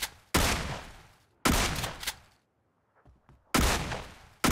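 Video game gunfire in a hide-and-seek map rings out as three loud automatic bursts separated by short gaps, with faint thuds in the quiet stretch between them.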